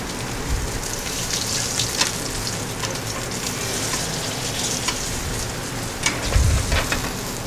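Strip loin beef searing in a hot, smoking pan gives a loud, continuous close sizzle like steady rain, with crackles and brief spits and a soft clunk near the end.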